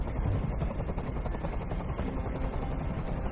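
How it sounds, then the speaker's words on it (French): Helicopter hovering nearby in Detroit: Become Human, a loud, dense, unbroken rotor roar with a rapid chopping flutter, alone without voices. "Je peux plus supporter ce bruit. Fais dégager cet hélicoptère"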